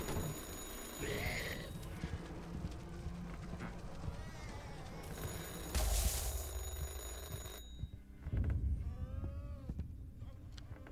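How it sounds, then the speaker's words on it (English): A phone ringing in the horror game Anthology of Fear, a bell-like electronic ring sounding amid game noise and other effects, with no talk over it. "the phone ringing is me calling for him"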